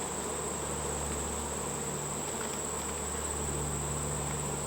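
Honey bees buzzing densely around hives in a backyard apiary during an inspection, a loud, steady swarm drone with a constant high whine, close and unbroken throughout.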